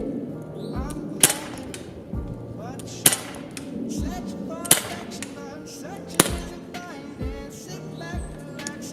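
Pistol shots fired at a distant target on an outdoor range, several sharp reports spaced a second or two apart, fairly close and loud, with talk in between.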